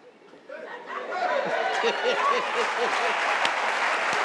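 Audience applause rising into a loud, sustained wash of clapping from a comedy show crowd, used as a vote by acclaim, with chatter and scattered voices mixed in.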